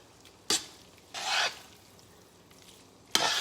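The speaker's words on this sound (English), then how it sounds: "I just want to keep stirring" Pasta being stirred through a sausage and mushroom sauce in a pan, with three separate brief scraping, stirring strokes against a quiet background.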